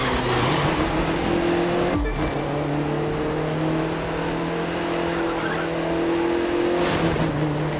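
Race cars in The Crew 2, including a Camaro, Corvette and Porsche, roar continuously at close range with engines droning and a brief tire squeal as they push through the race.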